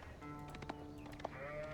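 Sheep bleat in an Age of Empires match, several short game bleats layered over faint steady background tones, quiet and without talk.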